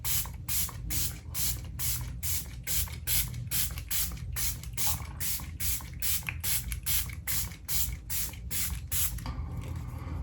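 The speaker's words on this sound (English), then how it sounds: "Nikki LaRose really loves this setting spray" Rapid repeated pumps of a makeup setting spray, about twenty short close hissing bursts in a steady quick rhythm, with a faint click at the end.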